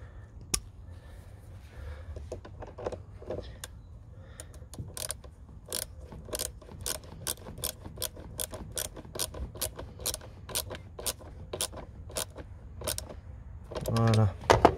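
Rapid ratcheting clicks from a hand ratchet wrench spinning an 8 mm socket, a steady train of sharp metallic ticks running through most of the stretch, with a brief rattle and clatter near the end.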